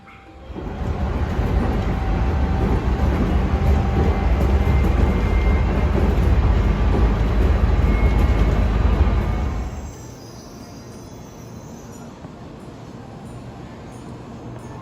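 A ride on an ordinary local train in Japan heading toward Mishima station: a loud, steady rolling rumble for about ten seconds that suddenly drops to a much quieter, even interior hum.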